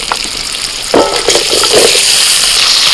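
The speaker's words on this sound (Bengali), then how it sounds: "কপিটাকে একটু তেলের মধ্যে ভেজে তুলে নিচ্ছি। এবার আলুটাও ভেজে নেব।" Cauliflower and potato pieces fry in hot oil, giving a loud, steady, close sizzle with bursts of crackling as they are stirred and no voices.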